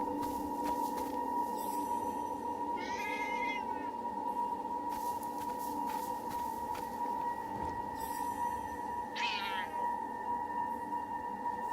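A cat meows twice in the video game Forspoken, short rising calls over a steady humming game soundscape with a constant tone, fairly quiet and well spaced.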